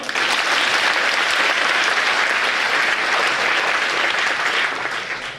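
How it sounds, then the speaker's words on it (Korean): Sustained, dense applause from a student audience at a school general assembly, loud and steady throughout before easing slightly near the end, with no talk over it. "박수 한번 주세요."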